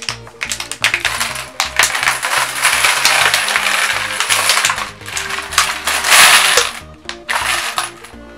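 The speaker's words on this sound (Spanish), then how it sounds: "estoy acomodando en torres de 20 monedas las monedas de 10 para saber cuánto le cupo a la botella" Ten-peso coins being stacked into towers of twenty, with dense, continuous metallic clinking and clattering from close by, in busy irregular bursts that run the whole length without any talking.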